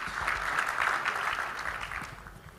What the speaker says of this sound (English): Another big round of applause, ladies and gentlemen.